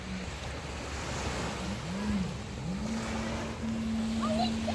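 Calm sea washing onto a beach under a cloudy sky, a steady soft wash of surf with light wind across the microphone, continuous and fairly even throughout, with faint tonal sounds drifting in the background.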